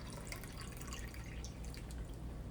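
Ginger turmeric juice squeezed from pulp drips and trickles steadily into a container, a faint continuous wet patter with no talking.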